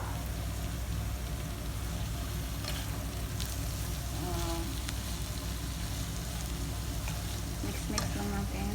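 Shrimp frying in a pan with rice, continuous dense sizzle and crackle with some stirring scrapes, close and steady throughout.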